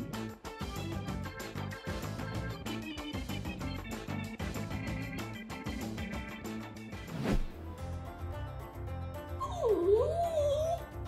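Dachshund dog vocalizing indoors, whimpering and yipping under loud continuous background music, with a rising and falling howl-like whine near the end.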